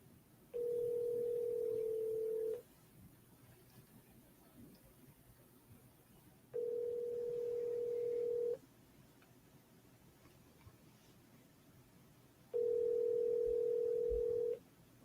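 Ringback tone from a phone on speaker during an unanswered call, three long steady tones about two seconds each separated by roughly four-second gaps, fairly loud and clear over quiet room noise.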